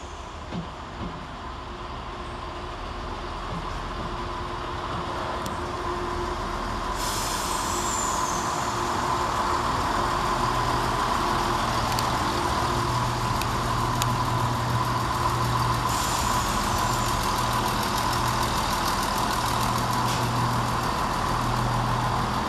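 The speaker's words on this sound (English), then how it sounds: "Arriving 5 minutes later, the station is 168001, working the 1247 Chiltern Railway service from Birmingham Snow Hill to London" Chiltern Railways unit 168001, a diesel multiple unit, pulls into Leamington Spa station with a steady engine drone that builds over time. Brake and wheel squeals and a sustained low hum carry on throughout, with no voices.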